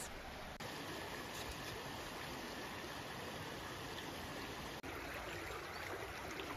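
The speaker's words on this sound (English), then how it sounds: "The sound of the cascading water is so relaxing and encourages a sense of calmness and peace" Steady, full rush of a stream cascading over rocks in rural Galicia, Spain, constant and close, with no voices.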